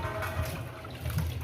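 Tap water runs steadily over food being washed at a home sink, a continuous close splashing rush with no speech.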